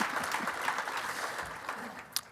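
An audience at a student leadership award presentation claps in a brief, moderately loud burst with steady texture and a sharper clap near the end.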